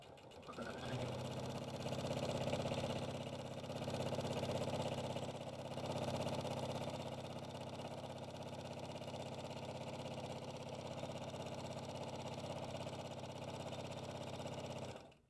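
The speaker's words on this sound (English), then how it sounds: "Now let's top stitch along the fold using a 1/8 of an inch seam allowance." A sewing machine top stitches along the folded edge of a tote bag pocket, running as a steady close mechanical whir with a low motor hum for about fourteen seconds before stopping abruptly.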